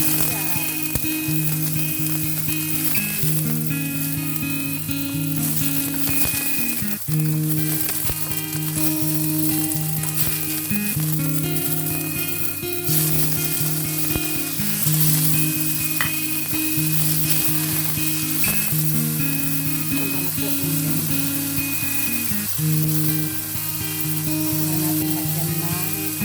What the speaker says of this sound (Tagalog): Saka natin gisa-gisa. Ayan, mainit ng ating mantika.